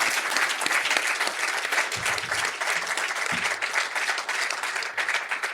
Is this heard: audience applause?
yes